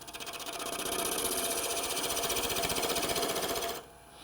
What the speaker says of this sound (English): So I'm going to switch to my spindle gouge.